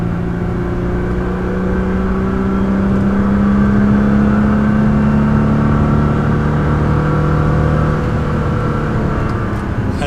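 Turbocharged car engine accelerating slowly, a steady loud drone with rising and falling engine tones held throughout, alone without talk.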